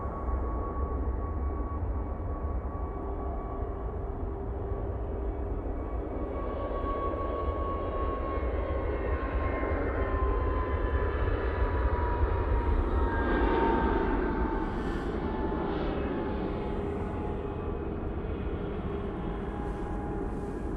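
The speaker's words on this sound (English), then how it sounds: "EasyJet now on the roll. He's an A321 Neo to go to Krakow." An EasyJet Airbus A321neo rolls for takeoff at Manchester Airport bound for Krakow. Its continuous engine roar builds with rising and falling whining tones, then swells and stays loud, with no talking.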